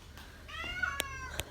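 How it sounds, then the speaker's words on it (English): A cat gives one drawn-out, wavering meow nearby, with a couple of small clicks and knocks in the quiet room around it. "Oh, look at the cat out."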